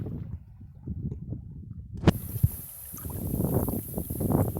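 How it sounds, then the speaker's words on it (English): Wind gusts buffet the microphone beside Lake Murray during a fishing outing, a low rumbling roar that swells and steadies, with a few faint knocks and no voices. "there's a lot of wind here."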